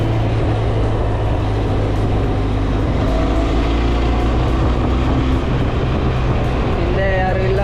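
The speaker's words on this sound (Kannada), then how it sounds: "ಗಾಡಿ ಸೌಂಡು ಲೈಟಾಗಿ, ಇಷ್ಟು ಸೈಲೆನ್ಸು, ಇಂಜಿನ್ ಬಡ ಬಡ ಬಡ ಅಂತ ಇರೋದು" A Benelli TRK motorcycle engine drones continuously while riding on a road through BR Hills, a low, even rumble mixed with wind rush and no breaks.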